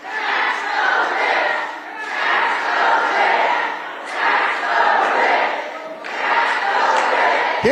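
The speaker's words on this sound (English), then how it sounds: "the crowd erupted in "Tax the Rich" chant" A large crowd at a congressional town hall chants "Tax the Rich" in loud, steady rhythmic waves, swelling and repeating roughly every two seconds, close and continuous throughout.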